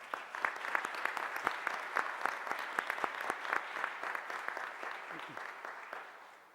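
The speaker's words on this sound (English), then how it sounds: "please indulge me in giving our special guests another round of applause" An audience gives special guests another round of applause at an official gathering, a crisp, fairly distant patter of many hands clapping steadily and fading toward the close.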